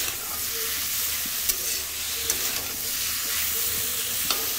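Taro stolons added to a pan with fried shrimp, crackling and hissing in hot oil as a steady loud sizzle, broken by a few sharp utensil taps.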